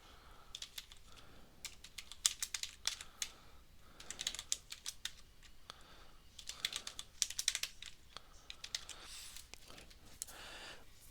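Typing on a computer keyboard while coding in Visual Studio Code, close, quick clustered bursts of key clicks with short pauses between, fairly faint, no talk.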